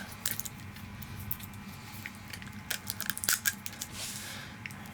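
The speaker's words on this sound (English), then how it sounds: "I kind of want to tape this all up" Tape being pulled and torn while wrapping a bicycle frame part during a Sylva Mojo rebuild, with quiet intermittent ripping and crackling bursts over a low room hum, no talking.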